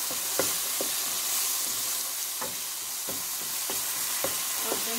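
Yogurt being stirred into sizzling masala in a pan for kofta curry, a constant frying hiss broken by several sharp spoon scrapes and clinks against the pot, close and alone.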